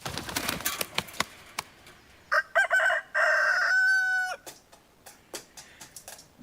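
Pet chickens clucking and a rooster crowing nearby, a long bright crow among scattered sharp clucks and knocks, close and clear without speech.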